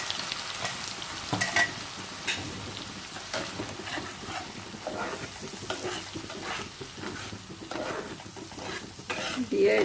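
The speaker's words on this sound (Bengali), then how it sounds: "দিয়ে এটাকে খুব শুকনো শুকনো করে ভাজবো।" Prawn paste with onion, garlic and ginger frying dry in a pan, a steady close crackling sizzle with repeated scraping stirs over a constant hissing bed.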